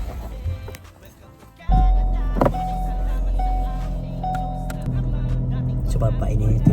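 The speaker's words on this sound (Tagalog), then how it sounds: "So papainitin muna natin yung sasakyan bago tayo alis." A parked car's engine starts and idles to warm up before a drive from a worker's accommodation in Canada, with a steady low rumble close by under speech.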